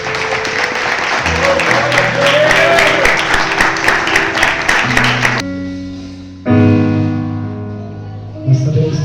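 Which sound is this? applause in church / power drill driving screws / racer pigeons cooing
applause in church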